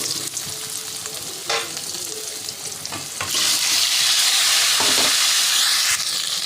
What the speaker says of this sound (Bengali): এবার আলুগুলো ভেজে নেব এবার আলুগুলো ভেজে নিই